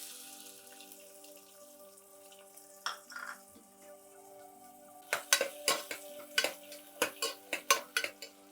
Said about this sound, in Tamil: இப்படி வெங்காயம் வதங்கிட்டு இருக்கும்போது